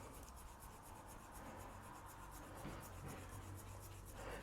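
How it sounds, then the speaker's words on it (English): Hands rub back and forth along the side of a bare foot during a reflexology massage, making a steady, faint, close friction swish that repeats over several seconds without talk. "go down this side of the foot and rub 10 to 15 times"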